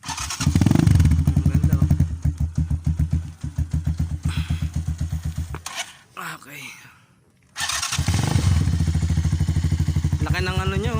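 A Rusi KR200 enduro-style motorcycle engine runs loud and close, rumbling steadily with rhythmic pulses, dropping briefly to a near stop before roaring back, while people talk over it.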